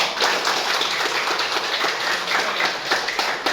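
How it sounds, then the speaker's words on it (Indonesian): A classroom of Indonesian students claps together in steady, dense applause, a loud, even patter of many hands close by that fills the whole moment with no talk. "tepuk tangan dulu semuanya"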